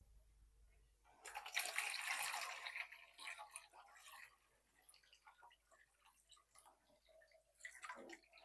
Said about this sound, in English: We're going to be adding the water.